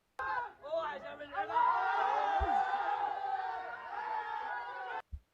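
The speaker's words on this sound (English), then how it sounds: "You notice how in every video people are cheering." Voices of people cheering and shouting amid an attack in a war zone, a dense continuous crowd roar with whoops, captured on a phone recording and cut off abruptly near the end.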